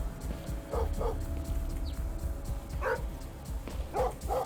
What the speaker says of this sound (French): le chien qui aboie